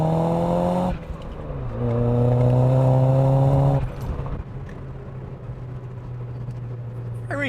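A Saab 9000 Aero four-cylinder pulls hard in second gear from inside the cabin, its engine note climbing steadily in pitch, easing briefly at a shift, then swelling again before dropping away to a lower steady drone.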